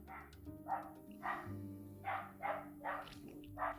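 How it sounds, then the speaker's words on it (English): A dog barks loudly outside on the street, about seven evenly spaced barks heard faintly through a window over a low steady hum. "there was a very loud dog barking outside."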